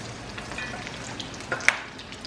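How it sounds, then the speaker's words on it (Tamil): Mutton kola urundai meatballs deep frying in hot oil, a soft steady sizzle and bubbling with a few small crackles and pops near the end, fairly quiet and heard without talk. "ஸோ நம்ம வந்து அவுட்டர் வந்து கிறிஸ்பி ஆகிறதுக்கு வேண்டி தான் ஃப்ரை பண்ணி எடுக்கிறோம்."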